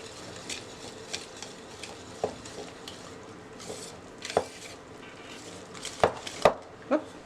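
Apple cake batter with butter is mixed in a bowl. Soft, irregular scraping and tapping play close by, and a few sharp knocks of the utensil against the bowl stand out near the end, with no talk.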